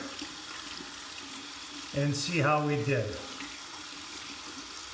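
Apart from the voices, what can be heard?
tap running cold water to wet alum block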